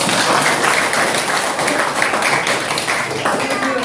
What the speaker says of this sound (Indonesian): Tepuk tangan dulu buat kelompok 4 tadi.